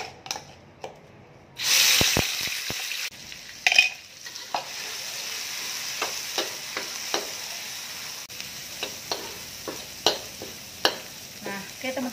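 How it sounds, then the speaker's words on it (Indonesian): Spice paste stir-fried in hot oil in a wok for a sweet potato leaf dish: a loud sizzle bursts in, then settles into steady frying under repeated scraping strokes of the stirring utensil. "Sekarang saatnya kita tumis. Oke, saatnya kita tumis untuk bumbunya ya."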